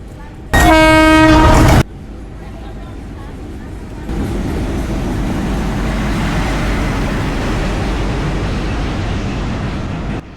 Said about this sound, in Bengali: আর এখন কিন্তু আমাদের ট্রেনটা প্ল্যাটফর্মে চলে এসেছে